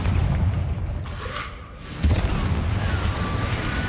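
A Confringo blasting spell in Hogwarts Legacy detonates with a heavy booming explosion, a loud low rumble with a whooshing sweep before a second deep thump, surrounded by dense battle noise.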